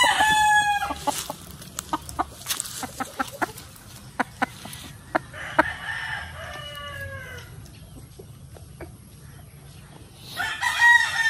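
Young Sweater Gilmore gamefowl roosters, about six months old, crow several times nearby between sharp clucks and calls from other birds, ending in a louder burst of fowl noise.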